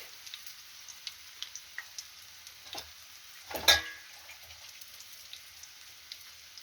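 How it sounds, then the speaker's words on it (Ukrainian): Gentle sizzling of onion patties frying in a pan, soft crackles and pops scattered throughout, with one louder clatter midway. "І хай жариться і жариться."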